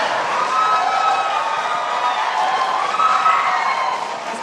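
A presidential debate audience between Donald Trump and Hillary Clinton breaks into applause and cheering, a broad, steady crowd roar that swells and holds for several seconds, with no one speaking over it.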